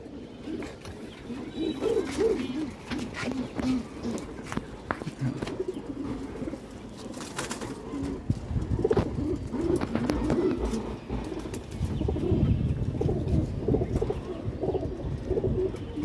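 Pigeons coo in a home loft where a female pigeon is kept, with repeated soft low coos and some chirps among scattered clicks and knocks nearby.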